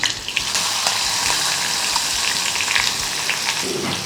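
Chopped onion sizzling in hot oil with asafoetida, cumin and curry leaves for Maharashtrian pithla, a steady, loud frying crackle and hiss that runs throughout with small pops scattered on top.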